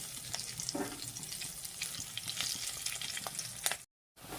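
Jackfruit seeds and potatoes frying in a pan, a steady hissing sizzle with occasional scrapes and stirring clatter, close and moderately quiet, cutting out briefly near the end before resuming.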